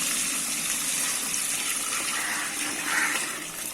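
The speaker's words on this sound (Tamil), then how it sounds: "இந்த பிரியாணிக்கு தேவையான தண்ணி சேர்த்துக்கலாங்க." Water pours into a large pot of chicken dum biryani, making a steady, continuous gushing splash that briefly swells near the end.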